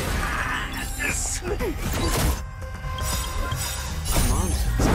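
Glass shatters in the video game Honkai Star Rail with a bright, loud crash, followed by thuds and clinks over game sound and music.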